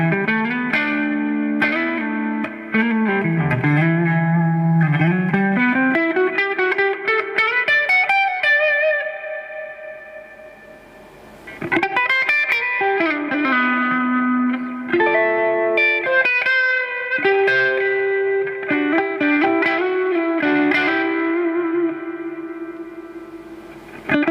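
Electric guitar played through an effects board with reverb, sustained chords and melodic lines swelling with echo and chorus-like shimmer, loud and continuous with a brief dip near the middle.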